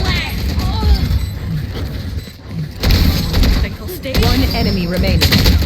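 Gunfire in the tactical shooter Valorant comes in several loud, rapid bursts over the game's background sound while players talk excitedly throughout.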